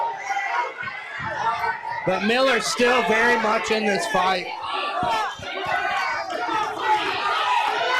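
A cagefighting arena crowd roars and cheers as big shots land, loud and sustained, with a commentator talking excitedly over the noise throughout.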